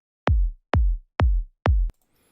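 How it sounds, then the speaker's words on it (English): Four deep, booming kick drum hits from an FL Studio sample, evenly spaced and loud, each with a punchy low-end body that decays quickly, played alone before a short stretch of near silence. "The first kick sounds like"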